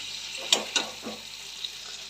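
Prawns fry in a spice masala in a pan with a soft, hissing sizzle, broken by two or three quick stirring scrapes.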